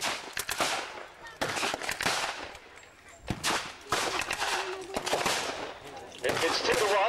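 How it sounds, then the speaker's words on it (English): MG-42 and Bren machine guns trading fire at a multi-period historical reenactment, rapid crackling bursts in repeated volleys, some near and loud, others more distant, with faint crowd noise underneath. "Now you can see the duel between the machine guns. The MG-42, the German tree line, and the famous Bren gun."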